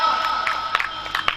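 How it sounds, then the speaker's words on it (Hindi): An audience at a live evening devotional program held at a Krishna cow shelter in Rajasthan gives a short burst of clapping and cheering, a dense crowd sound with a few sharper claps rising near the end. "जोरदार तालियां"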